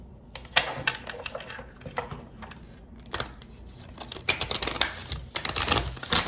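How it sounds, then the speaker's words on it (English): Cards are riffled and shuffled in quick bursts of crisp flapping and clicking, close up, with short pauses between shuffles. "I don't know why these cards are becoming difficult to shuffle all of a sudden"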